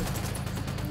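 Rapid gunfire in the video game Ghost Recon Wildlands, a dense burst of repeated shots under a steady low drone, with no speech.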